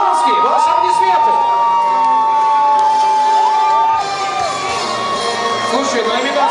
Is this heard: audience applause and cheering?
yes